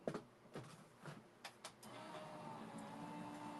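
An Empress die cutting machine runs close by in a crafting setting, a few sharp mechanical clunks at the start giving way to a steady whirring hum that carries on to the end.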